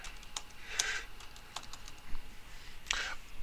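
Typing on a computer keyboard while entering a form link in office software: a few scattered key taps, then two brighter bursts of quicker keystrokes, close and fairly quiet with no talking.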